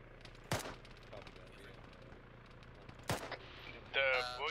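Gunfire from boats aimed at a helicopter in the military video game Arma 3 cracks out as two sharp, loud reports a few seconds apart, and someone speaks briefly at the end.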